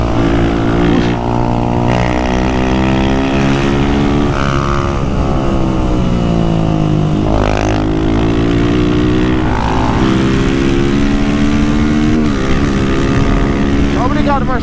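A Honda Twister 250 with a performance camshaft and a stock Twister 300 ride together. Their engines drone loud and near, with pitch rising and falling through repeated revs and gear changes, and a brief voice is heard.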